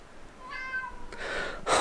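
A cat meows once, a clear drawn-out cry indoors at moderate volume, followed by a burst of rustling noise.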